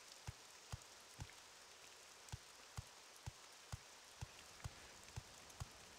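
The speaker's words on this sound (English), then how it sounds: "Oh, it's raining." Rain falls steadily in the video game Morrowind, a soft constant hiss with light, regularly spaced drip or tap accents throughout, faint and without voices.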